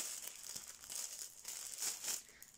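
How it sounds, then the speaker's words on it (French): Plastic wrapping crinkles as it is pulled off a small bracelet-like item with many little charms, rustling in several soft bursts close up. "On va enlever le plastique"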